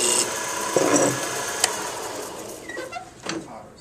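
Wood lathe turning a wooden Christmas tree ornament, a quiet steady spinning drone with brief scraping bursts and a sharp tick as the cutting tool meets the wood.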